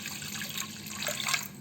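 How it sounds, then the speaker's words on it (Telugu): Water poured into a pot of washed lentils being readied to boil for radish sambar, a steady running splash lasting the whole moment, close and moderately loud, with no talking. "నీళ్ళు పోసుకోవాలి."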